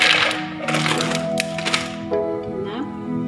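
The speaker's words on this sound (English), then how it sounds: "Then, I put some ice cubes." Ice cubes clatter into a pitcher of orange lemon juice with mint leaves, giving a burst of hard knocks and cracks up close, then a few scattered clinks as they settle, with kitchen background noise.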